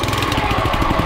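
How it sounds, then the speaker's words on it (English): A Honda engine on an ECOLAWN ECO250 top dresser runs with a rapid, steady chugging putter close by, loud and alone for about a second. "Like any Honda engine, you just turn it to choke and pull start it."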